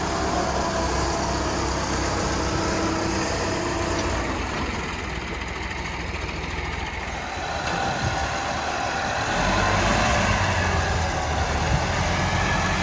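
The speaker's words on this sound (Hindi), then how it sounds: "तुसी ट्रैक्टर का साउंड सुन सकते हो।" A Massey Ferguson 375S tractor engine runs at a steady idle, a loud low rumble with constant mechanical roar close by, no talking.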